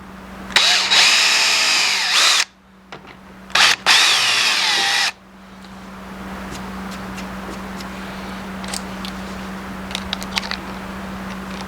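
A cordless power drill drives screws into an RV pivot door, with two loud close whirring bursts, the second one stuttering, followed by quieter handling clicks and a steady background hum.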